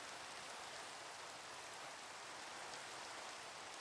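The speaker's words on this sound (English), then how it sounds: "Oh, rain is unreal." Steady, even rain falls in the Minecraft video game, a constant soft hiss with no pauses or other sounds.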